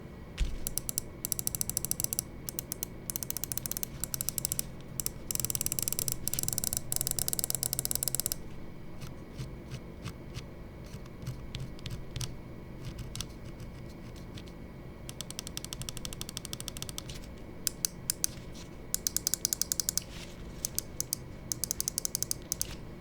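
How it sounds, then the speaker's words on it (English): Crisp button clicks from a G-Wolves Fenrir Asym 8K gaming mouse repeat in rapid bursts, close and sharp, with short pauses between flurries and no talking. "Let's go ahead and drop a click quality sound check"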